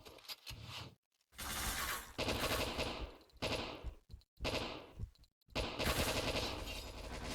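Automatic gunfire in the Point Blank online shooter, sustained rapid bursts of rattling shots broken by short silent gaps, loud and close with no voices.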